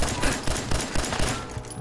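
Gunfire in Fallout 4 crackles in a rapid burst of roughly half a dozen close, loud shots in quick succession.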